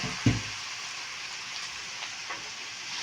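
Taro frying in a pan as it is stirred: a steady sizzling hiss running the whole time, with one sharp utensil knock near the start and softer scrapes later, no talking.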